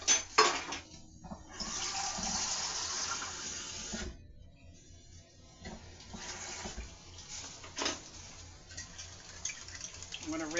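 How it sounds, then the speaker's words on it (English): Brine from a can of chicken pours into a pot as a splashing, trickling stream in short bursts, with faint kitchen clatter between the pours. "I might as well put the brine in there"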